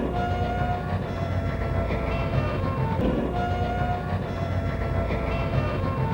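A New York Central Hudson steam locomotive passes in a steady, loud roar of rumbling machinery and rolling wheels, with faint sustained whistle-like tones drifting over the noise and no pauses throughout.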